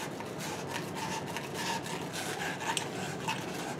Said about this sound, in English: And I'm going to run it over a piece of sandpaper.